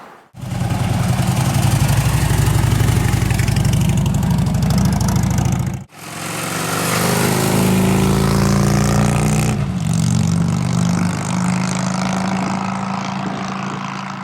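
Harley-Davidson Tri Glide motorcycle engine running with a loud, steady low rumble, cutting out briefly before restarting and pulling away, the engine note shifting as it rides off.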